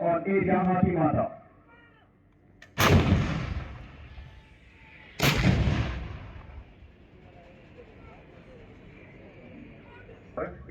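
Artillery guns fire during an artillery regiment's annual firepower demonstration and training exercise: two loud, close booms a few seconds apart, each rolling off in a long decaying rumble, after brief speech at the start.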